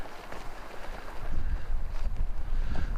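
Breezy wind gusting at a backpacking campsite in a state park, buffeting the microphone with a rough, rumbling roar that swells midway and stays steady, with no talking.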